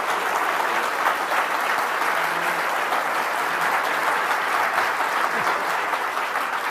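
Lecture-hall audience at a Veritas Forum event clapping for a professor, a dense, even wash of applause from many hands sustained throughout at steady loudness, with no voices over it.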